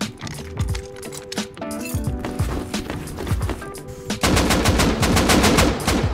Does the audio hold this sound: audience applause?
no